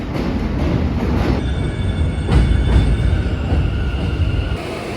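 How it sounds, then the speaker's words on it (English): Loud rumble of a New York Z subway train rolling out of a station in Jamaica, Queens, with a thin metallic wheel squeal and a swell of noise as it passes. "behind me is the train that I just got on"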